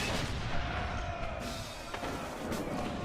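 Artillery fire in the World War One video game Valiant Hearts: The Great War, a couple of sharp booms standing out over a dense, continuous battle din.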